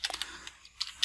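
Quick computer keyboard typing while entering login details into a Cisco AnyConnect SSL VPN client, a handful of light, irregular clicks close up with short pauses between them and no talking.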